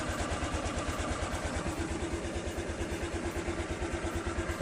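A Honda Click 125i scooter engine idles after a top overhaul for overheating, putting out a quiet, even, rapid putter at close range with no talk.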